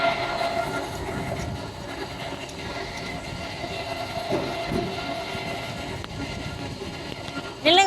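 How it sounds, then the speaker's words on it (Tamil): A rail bike rolling along the railway track at Gapyeong Rail Park in Korea, with continuous clickety-clack and rumble of wheels on rails, a brief squeal near the end, and some talking. "ரயில் பைக்ல போய்கிட்டு இருக்கோம்."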